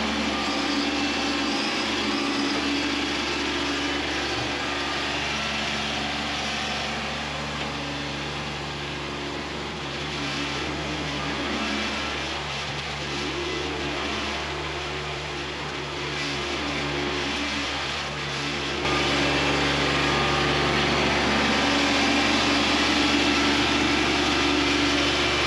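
Kubota B2601 compact tractor engine running steadily at a constant throttle while its bucket smooths a gravel pad, a continuous near drone with no voices.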